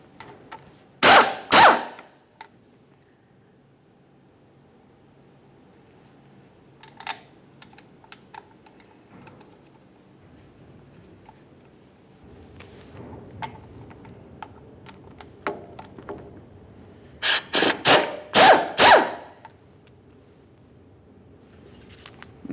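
Bolts being removed from a Ford Ranger 2.3L fuel pump assembly: short bursts of rapid ratchet clicking at the start and again near the end, with faint handling noises between and no talk.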